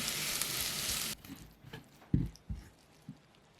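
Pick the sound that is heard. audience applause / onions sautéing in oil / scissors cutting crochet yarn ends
onions sautéing in oil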